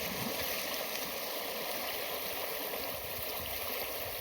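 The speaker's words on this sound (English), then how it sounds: "I'm making my way across the river" A person wades across the shallow John Day River in Oregon, water rushing and gurgling around them in a steady close wash with no talking.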